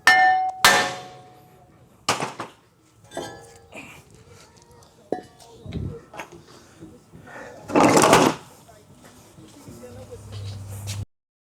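Hammer strikes on the brake rotor of a 2010–2024 Toyota 4Runner 4.0L V6 during a front brake job, several sharp metallic clangs spaced irregularly, with a heavier ringing hit late on.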